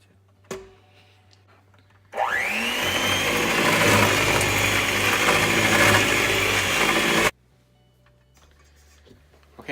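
A kitchen blender whirs up loudly, spins at a steady high-pitched roar for about five seconds, then cuts off abruptly; quiet room noise and brief handling sounds surround it.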